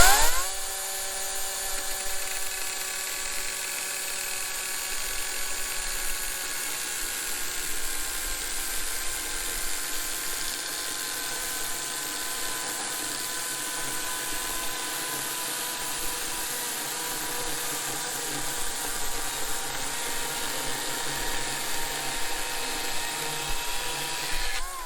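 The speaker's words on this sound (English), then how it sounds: "Precision cutting tools." Power cutting tool whining steadily through timber for a cabin roof truss, a loud continuous high-pitched buzz with a sharp start, holding steady for the whole stretch without talk.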